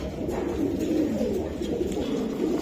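A loft full of BRPFC club racing pigeons coos in a continuous, overlapping low murmur, steady and fairly close throughout with no clear breaks.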